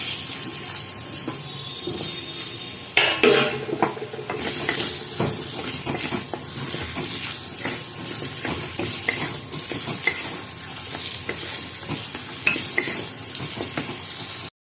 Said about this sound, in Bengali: এই নুন আর হলুদ দিয়ে আলুটাকে আমি কেটে রেখেছিলাম হাফ হাফ করে, এটাকে আমি ভেজে নিচ্ছি।